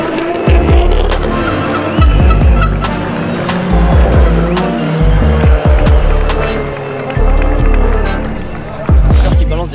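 A BMW E46 drift car at a French drift championship event in Calmont, engine roaring loudly and revving with repeated gear shifts and long tire squeal, up close while an announcer talks over it.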